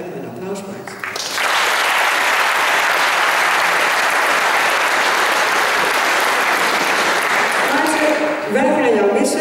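Applause at a secondary school diploma ceremony: a hall full of people clapping loudly and steadily for several seconds, starting after a brief spoken line and fading into more talk at the end.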